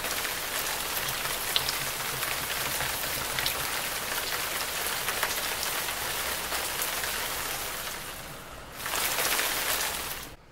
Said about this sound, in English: So the rain stops raining, and UberCat is frozen